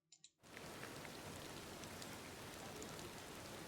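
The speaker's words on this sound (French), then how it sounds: "Ah, la pluie est magnifique." Rain in the Storybook Vale DLC, arriving after two faint clicks and then holding as a dense, even patter of drops across the rest of the stretch, soft in level with no talking.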